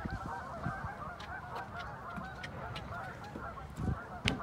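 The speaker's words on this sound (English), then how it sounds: "I think the geese are happy too." A large flock of geese honks continuously, a dense chorus of overlapping calls at moderate distance with no one speaking.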